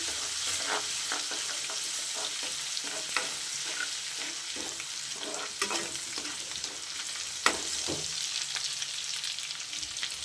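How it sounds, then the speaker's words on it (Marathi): Crushed ginger and garlic frying in oil in a home kitchen, a steady close sizzle with scattered crackles and occasional spoon scrapes while being stirred, no talk. "एक दोन मिनटं त्याचा कच्चा फ्लेवर जाईपर्यंत आपल्याला तेलामध्ये परतून घ्यायचं आहे"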